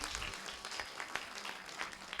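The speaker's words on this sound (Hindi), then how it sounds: "एक बार और जोर की ताली बजाइए" An audience at a college orientation session applauds, a quiet, dense patter of many hands clapping at some distance, with no voice over it.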